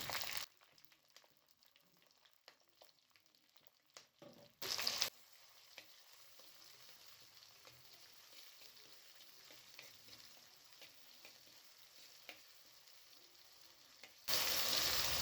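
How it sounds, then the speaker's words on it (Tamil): Continuous sizzling and crackling of small onions and curry leaves sautéing in hot oil, with occasional stirring scrapes and a couple of brief louder bursts. "வெங்காயம் நல்லா பொன்னிறமாக வதங்கி வரட்டும். அது வரைக்கும் நல்லா வதக்கிக்கிறேன்."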